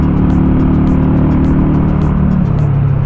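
Car engine droning steadily on a mountain road route toward Cerro de Guadalupe near Fómeque, Cundinamarca, riding along with motorcycles; a continuous loud low rumble with a slight pitch shift near the end and no talk.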